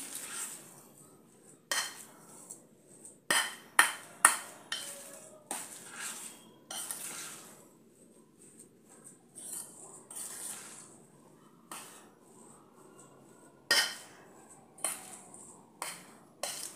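A utensil scrapes and clanks against a pan while samosa filling is mixed and stirred, irregular close knocks and scrapes over a quiet background, with no talking.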